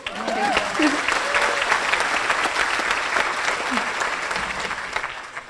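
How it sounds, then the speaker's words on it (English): An audience at a university brunch claps in a sustained, lively round, with faint voices and a brief whoop under the applause. "Can I get a clap for her too?"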